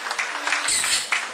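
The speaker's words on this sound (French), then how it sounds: "Avec vos applaudissements toujours." An audience applauds in a hall during a senior citizens' queen election event in 2012, a steady wash of many hands clapping at moderate loudness for the whole moment, with a few brighter individual claps poking through.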